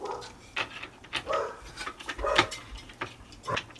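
A big black dog gives several short, muffled barks and whimpers at a low level, spaced irregularly over a few seconds.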